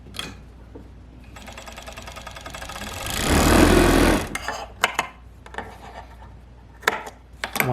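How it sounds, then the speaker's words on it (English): A serger runs in a steady mechanical burst for a few seconds, stitching closed the slightly angled bottom edge of a fly-front zipper piece, then stops and is followed by scattered handling clicks and knocks. "You're going to serge that closed."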